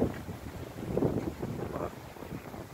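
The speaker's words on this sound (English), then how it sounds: "It's getting windy." Gusty wind buffets the microphone in low, uneven rumbles, with no other clear sound.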